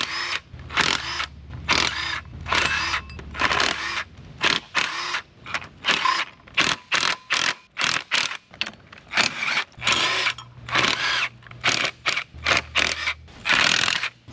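Impact chrome sockets spinning out timing cover bolts on a Mercedes M120 engine during teardown, loud repeated bursts of whirring tool noise separated by short pauses, close up with no talking.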